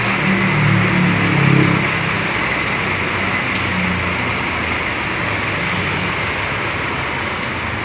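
Intercity buses and general traffic at Tanjung Priok bus terminal in Jakarta, with a steady low engine rumble and road noise throughout and a slightly louder engine swell near the start, without any talk.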